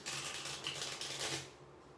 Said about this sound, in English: let me do a couple of shuffles.